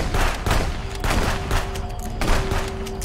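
Pistol fire from the video game Contraband Police: a rapid run of loud, close shots that keeps going for a few seconds, with no voices over it.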